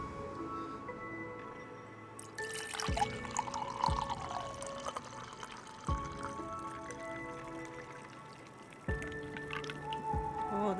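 Liquid pours and drips in the Honkai: Star Rail video game, a cozy game sound effect with several sharp splashing onsets amid trickling water and soft tonal background music, no talking.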